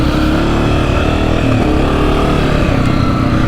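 Honda CRF250F dirt bike engine running in a sandbox, a loud, steady four-stroke drone with slight throttle wobble and no clear pauses, close to the listener.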